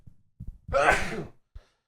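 A single close sneeze bursts out after a couple of small preparatory breaths, short and sharp, in a quiet room.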